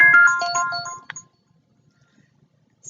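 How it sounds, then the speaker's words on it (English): A phone alarm set as a reminder to eat plays a loud, bright ringtone melody of repeated tones for about a second, then stops into near silence, with a faint tone returning at the very end. "that's my alarm to remind me to eat"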